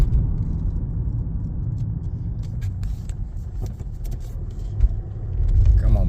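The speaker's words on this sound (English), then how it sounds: "right foot is hard down to the floor in second gear, and I'm doing 30 miles an hour" Lexus IS220d diesel car in limp mode from an EGR fault, engine droning and straining under full throttle in second gear at about 30 mph; a steady low rumble continues throughout from inside the cabin, swelling slightly near the end.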